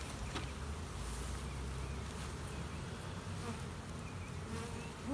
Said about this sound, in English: There's going to be a lot of bees in this one.